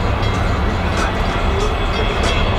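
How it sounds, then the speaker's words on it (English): A train that has stood still for a long time near an abandoned canyon pit gives a loud, steady, continuous rumble with a constant low drone and no clear rhythm. "Alright, this train's taking forever."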